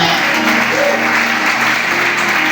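Church congregation applauding, a dense, loud, continuous wash of clapping from many hands that holds evenly throughout, with faint voices mixed in.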